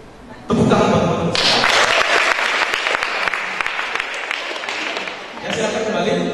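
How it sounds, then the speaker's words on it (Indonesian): Audience applause at a student organization workshop on lobbying and negotiation, a dense burst of clapping that starts abruptly, stays loud and steady throughout, with faint voices mixed in toward the end. "Tepuk tangan buat"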